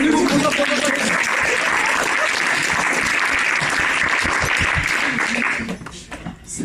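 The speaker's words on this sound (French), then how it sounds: "Un applaudissement pour nous." Audience applause at a comedy lecture event, a thick continuous burst of clapping from a crowd that carries on for several seconds before dropping away near the end.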